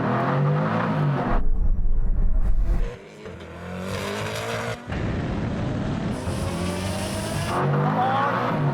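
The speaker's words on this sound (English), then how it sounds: "I get a better launch out of this Koenigsegg" A Koenigsegg launches at the start of a drag race, its engine roaring loudly with rapid rising revs and gear shifts, close and dominant, no talking.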